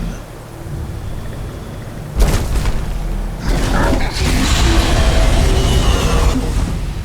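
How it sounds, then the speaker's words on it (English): A dragon's Thu'um shout in the Skyrim Special Edition game: a sudden booming blast erupts after two seconds of low rumble. A second thunderous surge follows and holds as a loud, roaring wash to the end. "Hear my Thum. Feel it in your bones."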